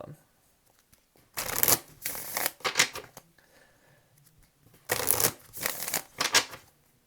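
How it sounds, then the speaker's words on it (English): Tarot cards are shuffled in two loud, close sets of crisp riffling bursts, separated by a quiet pause. "Two more shuffles for Leo, please."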